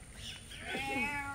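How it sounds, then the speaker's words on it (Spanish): A kitten gives a couple of thin, rising meows close by, over faint background noise. "Te trajimos los gatitos."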